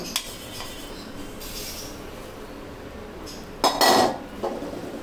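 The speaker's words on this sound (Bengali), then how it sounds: "আমি অন্য একটা পাত্রে ট্রান্সফার করে দিচ্ছি।" Roasted peanuts tipped from a hot pan into another pot in a home kitchen, a few scraping clinks and a louder rattling pour of nuts against metal, close and alone.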